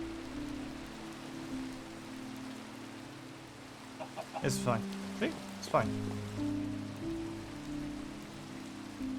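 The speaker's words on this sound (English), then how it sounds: "Ah, it's raining." Soft, steady rain patters in the video game Minecraft under low game tones, while a person speaks briefly over it.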